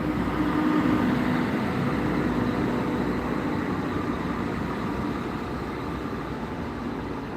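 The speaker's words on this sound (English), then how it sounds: "And that's the sound of the Transport for Wales" Transport for Wales Class 197 train departing from a station in Gloucester, a steady, moderately loud diesel drone and rolling rumble that holds evenly and eases slightly toward the end.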